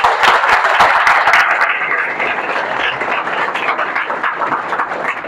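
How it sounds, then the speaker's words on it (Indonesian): An audience claps for a student at a college orientation session, strongest at the start and then thinning to a softer, continuing patter. "Tepuk tangan untuk mahasiswa itu ya."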